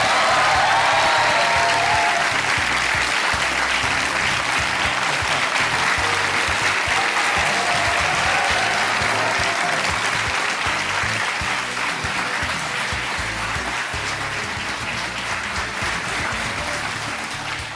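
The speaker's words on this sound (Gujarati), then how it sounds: "અને આ તાળીઓ વગાડતા રહો" A studio audience at the Aap Ki Adalat television show applauds loudly and continuously, with the clapping fading slightly toward the end and no speech over it.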